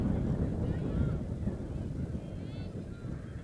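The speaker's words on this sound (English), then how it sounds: "Bit of a windy day here" Steady wind rumbles and buffets against the microphone throughout at a sports training center in Virginia Beach, with faint distant voices underneath.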